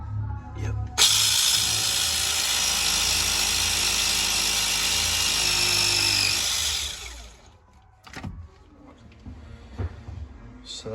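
A plumber's battery press tool crimps a pipe fitting on a job, running as one loud, steady high-pitched whir for about six seconds before it winds down, then a few clicks and faint handling noises follow.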